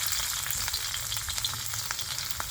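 Garlic frying in hot oil in a home kitchen, giving a continuous close, loud sizzle with faint crackles and stirring throughout.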